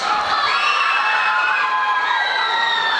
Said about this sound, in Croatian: jedan veliki aplauz za Sajru